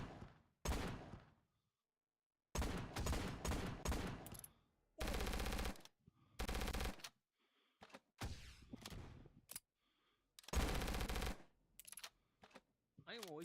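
Gunfire and rocket launches in a VRChat zombie shooter game come in sharp bursts of rapid automatic fire, with loud blasts separated by short pauses.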